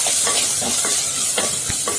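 Chopped garlic and rock salt sizzle steadily in a hot frying pan for a lentil-ball curry, with a few soft scraping stirs punctuating the continuous hiss.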